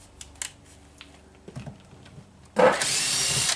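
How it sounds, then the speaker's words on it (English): A few light clicks and taps, then an electric drill suddenly whirs loudly and steadily for about a second, close by, working on a Mercedes-Benz W123 door panel. "Now I'm using an electric drill here"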